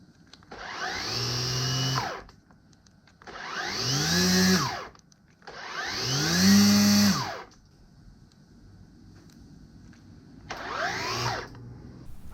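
A Makita 36V cordless power head fitted with a trimmer attachment is run in four bursts of two to three seconds each. Its whine rises and falls with each throttle squeeze, with quiet pauses between bursts.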